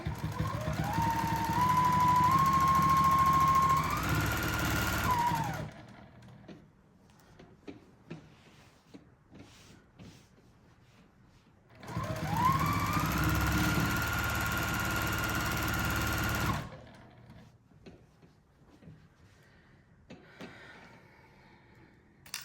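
A home sewing machine stitching free-motion quilting across a pieced star quilt runs in two steady bursts of motor whir, about five seconds each, separated by a long quiet pause with faint small handling noises.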